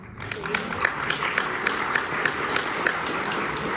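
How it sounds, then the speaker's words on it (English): Audience applause at a live author conversation and Q&A event, moderate clapping with distinct individual claps standing out, steady and restrained rather than roaring, with a voice briefly audible underneath. "Very dignified applause, that, wasn't it?"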